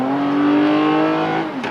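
Toyota Camry TRD V6 four-door sedan engine revving hard under full-throttle acceleration, a steady loud drone with rising harmonic tones held throughout, close and without talk.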